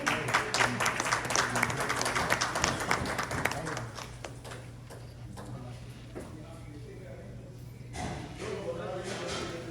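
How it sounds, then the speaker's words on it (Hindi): Audience clapping at a Hindi poetry gathering (kavi sammelan) held at a Lakshmi Narayan temple, a moderately loud burst of scattered applause that thins out after a few seconds, with voices talking over it. "थोड़ा तालियां बजाएं"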